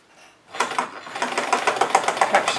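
After a quiet start, a sewing machine starts up and stitches through denim jeans pockets, a rapid rhythmic mechanical chatter that holds steady and close.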